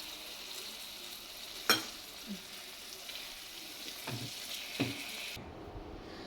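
Green bean sabzi sizzles steadily in a pan after water is added, a bright hissing that runs for about five seconds with a few soft utensil clinks, then drops away.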